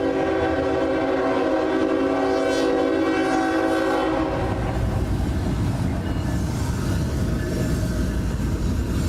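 Loud, sustained multi-tone train horn blasting for about four seconds at a rail celebration, then giving way to a rumbling passing train with rail noise for the rest.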